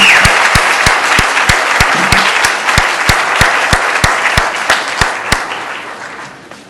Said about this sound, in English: Would you guys please join me in giving these gentlemen another round of applause, please?